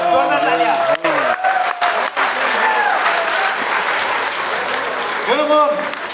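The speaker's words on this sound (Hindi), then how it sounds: "जोरदार तालियां" Loud applause from a large audience at an Atomy event in Delhi bursts out in a dense, sustained wave, with a voice speaking over the clapping near the start and again toward the end.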